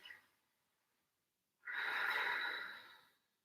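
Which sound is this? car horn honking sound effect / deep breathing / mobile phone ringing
deep breathing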